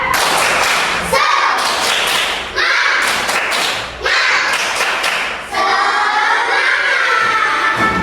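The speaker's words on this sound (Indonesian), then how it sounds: "kita kasih tepuk semangat" Primary-school class in Indonesia doing a rhythmic group cheer-clap as an ice breaker: bursts of sharp, loud clapping in patterned sets, separated by short pauses, mixed with children chanting and shouting together.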